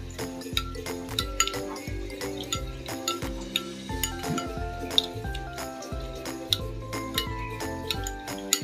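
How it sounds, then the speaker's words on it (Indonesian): Oyster sauce and water being stirred in a bowl, heard as a steady run of light clinking and tapping of a utensil against the bowl in an uneven rhythm. "Lalu kita aduk-aduk hingga saus tiram ini larut."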